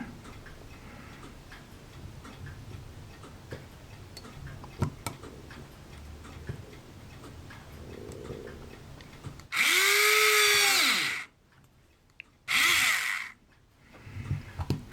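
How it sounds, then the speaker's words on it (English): A small power drill whirs in two loud bursts, drilling holes in a model ship, a longer one followed by a short one, over a quiet room with faint ticking. "Now these holes were easy to drill"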